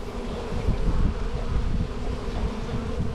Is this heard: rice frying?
no